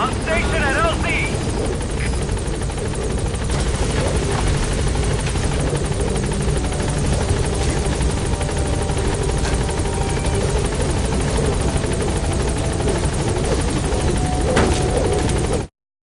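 The helicopter B-Quad arriving at a landing zone in Metal Gear Solid V: continuous, loud rotor thumping and engine drone filling the whole stretch, with radio-style speech over it.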